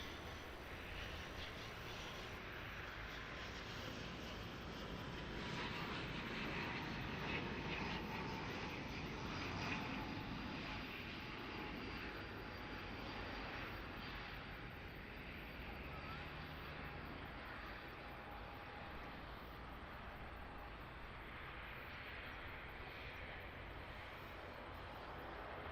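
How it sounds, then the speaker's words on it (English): An Air New Zealand ATR turboprop lands at Auckland Airport, its engine drone swelling and then easing under a broad roar. The sound is heard from a distance with talk over the top. "Alright, another ATR. This time an Air New Zealand one."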